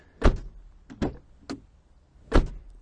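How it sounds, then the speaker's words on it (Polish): Several doors of a 1989 BMW 524td thunk shut and click open in quick succession, four solid knocks close by, with no talking. "posłuchajmy tego, jak się otwierają i zamykają drzwi"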